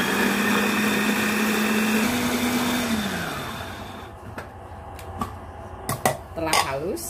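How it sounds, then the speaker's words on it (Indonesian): An electric food chopper grinds a spicy fish filling for panada pastries, a steady loud motor whir for about three seconds that then winds down, followed by light clicks and clatter and a brief voice. "Kita haluskan dengan chopper."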